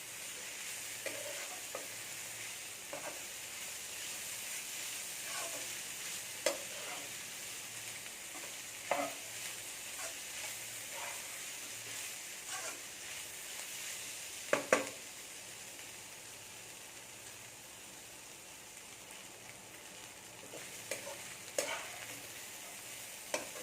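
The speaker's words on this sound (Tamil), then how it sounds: "நல்லா செவக்க கிளறி விட்டுருங்க" Fish puttu fries in a pan and is stirred until it browns, giving a faint continuous sizzle broken by periodic scraping and tapping strokes of the spatula, some louder clacks among them, with no speech.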